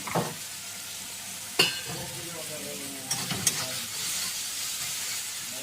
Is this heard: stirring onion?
yes